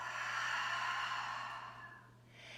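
A long, audible exhale during a yoga flow, a soft breathy rush that fades out slowly over a steady low hum.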